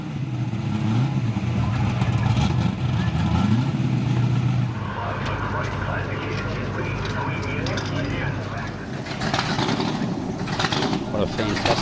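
Holden Monaro muscle car at a car show blast session, engine rumbling and revving in the open air with a crowd around, loud throughout while people talk over it.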